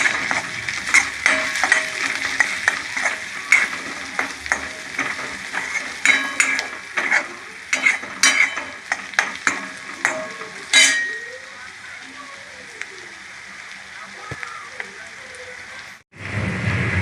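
Red chili powder and goda masala sizzling in hot oil while being stirred in a pan for a cauliflower dish: loud close crackling with repeated scraping stirs, then a steadier sizzle that cuts off near the end.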